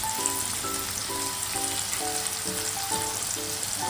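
Chicken pieces fry lightly in oil in a pan, a steady close sizzle with an even crackle and faint background hum, no voices present.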